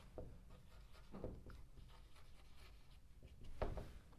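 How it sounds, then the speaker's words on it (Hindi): The word Jaipur being handwritten, heard as soft, close scratchy strokes of a pen on paper, a few short bursts with a slightly firmer stroke near the end, no voice. "जैसे मैं लिखता हूँ जयपुर"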